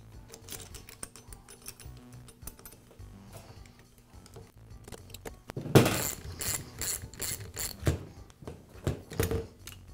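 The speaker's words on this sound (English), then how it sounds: "I'll secure the nose piece with the screws and bracket." Screws being driven to secure the nose piece and bracket on a Max roofing nailer during a contact lever repair, giving quiet clicking and ratcheting at first, then a louder, denser run of sharp mechanical clicks in the second half.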